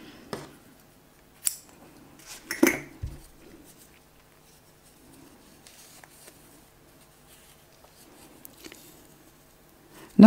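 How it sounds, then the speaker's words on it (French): Scissors snipping crochet yarn while finishing a crocheted amigurumi turtle, a few faint, sparse close snips and light handling noises in an otherwise quiet room. "on coupe le fil"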